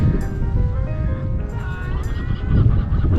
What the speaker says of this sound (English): Well, now I hear birds.